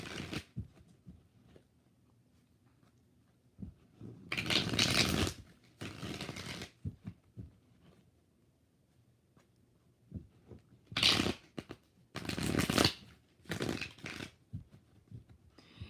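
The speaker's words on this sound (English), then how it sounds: "Three more shuffles." Tarot cards are shuffled in a quiet room in several separate bursts of rapid riffling and flicking, close and crisp, with pauses of near silence between them.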